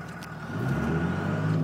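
A blue 2002 Ram 2500 pickup with about 206k on it crawls along in four-wheel drive, its engine a steady, close, low drone that swells slightly and holds even for under two seconds.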